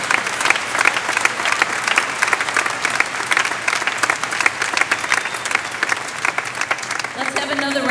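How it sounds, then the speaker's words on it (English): A large commencement ceremony crowd applauds honor award winners, a loud, sustained roar of clapping that continues evenly for several seconds before a voice begins speaking over the tail end. "Let's have another round of applause for these outstanding achievements."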